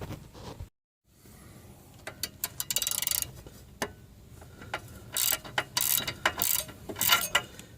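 A ratchet tightens the front sway bar end link on a Subaru Forester: close, loud bursts of rapid metallic clicking in quick strokes, separated by short pauses, with no talking.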